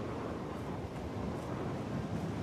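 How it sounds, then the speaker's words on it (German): Strong wind roars across the landscape in the Dragon's Dogma video game, a steady, dense, rushing gale with no breaks, fairly quiet in level and with no voices over it. "Boah, was ist das für ein Wind?"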